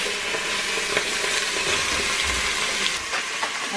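Butter sizzles in the hot inner pot of an Instant Pot, a continuous hissing crackle at fairly loud level with faint bubbling, steady for a few seconds without speech.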